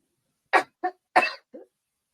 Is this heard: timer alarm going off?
no